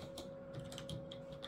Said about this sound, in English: I'm typing from a weird angle.